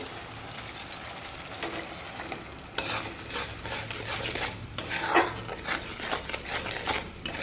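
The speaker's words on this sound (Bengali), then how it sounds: "ভালো করে নাড়িয়ে চাড়িয়ে যতক্ষণ না আমার তেল ছাড়ছে ততক্ষণ না আমি এটাকে ঢাকা দিয়ে দিয়ে কষে নিই" Ground cumin, coriander, chili and salt being stirred in oil in a cooking pan, with scraping and metal utensil clinks over a soft sizzle, close and intermittent.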